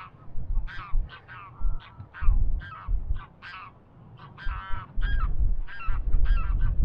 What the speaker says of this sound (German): da drüben, da sind hier große Vögel und sowas